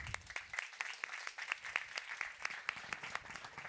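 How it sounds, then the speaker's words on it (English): A conference audience claps for panelists at a child-rights business event, a thin, faint patter of individual claps in an uneven rhythm, with no talk. "Let's give them an applause"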